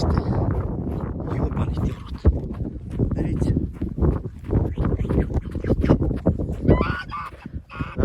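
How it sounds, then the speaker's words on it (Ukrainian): Loud, agitated honking from an attacking gander over scuffling and commotion close by, continuous and chaotic for several seconds. "Гусак напав."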